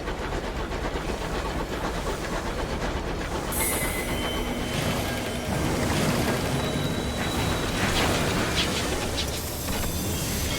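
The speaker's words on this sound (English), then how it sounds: "Man, our train feels really slow." The locomotive train in the video game Sunless Skies rolls along with a steady, loud mechanical rumble and rattling wheels, while a thin squeal and a hiss of steam rise partway through, with no voices.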